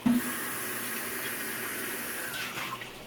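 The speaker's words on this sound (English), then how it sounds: "Now the lid goes into the sink." A pot lid rinsed in a kitchen sink under a running tap, a steady moderate rush of water with a brief clatter near the start and splashing toward the end.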